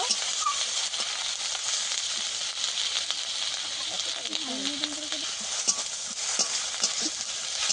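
Onion paste frying in hot oil with five-spice, cooked as the base for a fish curry. A steady sizzle runs throughout with occasional utensil scrapes and stirring, and a faint voice comes in briefly.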